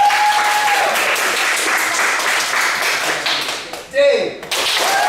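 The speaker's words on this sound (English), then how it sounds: "I want you to clap for who you want to stay this time." A theatre audience at an improv comedy show claps steadily for about four seconds, a dense sustained applause with a brief dip near the end before it swells again.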